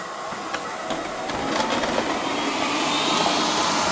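A Liectroux B6009 robot vacuum cleaner with mop whirs over crumbs scattered on lino, a steady close motor drone that swells slightly as it runs, with faint rattling pickups.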